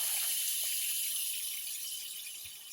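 Hot water runs steadily from a tap into a sink for ice dyeing, a loud, even hiss and gush that tapers slightly, with no voices.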